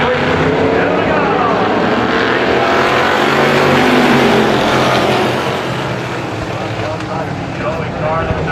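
Race cars roar around Lee USA Speedway on a Friday night, a dense, loud, continuous engine roar with overlapping passes that eases slightly toward the end.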